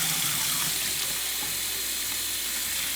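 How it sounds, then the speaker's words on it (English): Hot water runs from a tap into a soap dispenser bottle, a steady hissing gush that holds constant throughout with no talking. "now we're gonna fill it with hot water"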